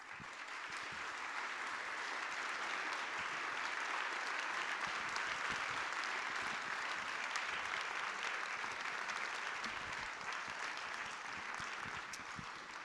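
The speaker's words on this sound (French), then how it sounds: "J'ai pas l'habitude des applaudissements, hein." Sustained applause from a live audience at a public talk and discussion event in Pau, welcoming a guest onto the stage; dense, steady clapping with no voices for the whole stretch.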